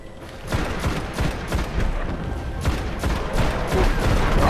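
Rapid rifle fire in the shooter video game Destiny, with bursts of loud gunshots repeating in quick succession over a dense, steady background of in-game combat noise.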